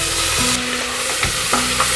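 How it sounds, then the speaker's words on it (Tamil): Chopped tomatoes sizzle in a hot pan during sautéing for a country chicken curry, a steady close frying hiss broken by a few light stirring clinks. "இப்போ இதில் வெட்டி வச்சுருக்க தக்காளியை சேர்த்து தக்காளி தான் நல்லா மசிய வதங்கணும்."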